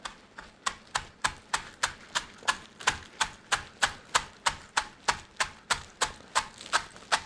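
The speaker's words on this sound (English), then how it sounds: "I've got a bunch of scallions that I just rinsed off. I'm going to cut into rings very simply and set to the side" A knife chops scallions into rings on a cutting board, a steady run of about twenty crisp, evenly spaced taps close by, with no talking.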